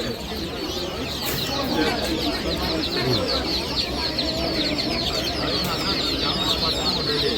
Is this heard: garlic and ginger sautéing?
no